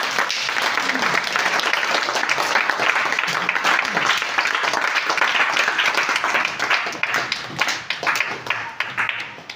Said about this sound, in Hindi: चलिए अपने परिवार के लिए जोरदार ताली बजाइए